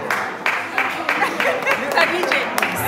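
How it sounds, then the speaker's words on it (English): Guests at a baby's naming ceremony clap for the DJ, giving sharp scattered handclaps mixed with voices and party chatter in a lively indoor setting. "once again, give one applause to Mr."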